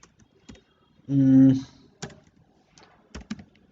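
Keys on a computer keyboard are pressed in a few sparse, separate clicks, close and fairly quiet, with a short hum of voice in between.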